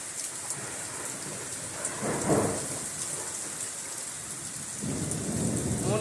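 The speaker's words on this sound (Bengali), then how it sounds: "খুব জোরে মুসুলধারে বৃষ্টি হচ্ছে" Heavy torrential rain pours down in a thunderstorm, a dense constant roar of drops on surfaces, with low rumbles of thunder swelling twice in the near distance.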